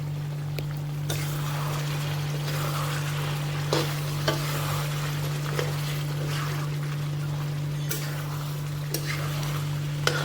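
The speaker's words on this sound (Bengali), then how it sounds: "তো দেখো আমার মাংসটা ভাজা হয়ে গেছে, মানে কষা হয়ে গেছে।" Mutton frying in a pan for a home-style curry, a steady broad sizzle with occasional stirring scrapes and clicks, close and continuous over a low steady hum, with no one talking.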